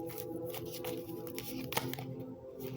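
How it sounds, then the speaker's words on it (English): A deck of cards is shuffled by hand nearby in a quick series of riffling, flicking bursts with a soft papery texture over a steady low background hum. "Let me shuffle"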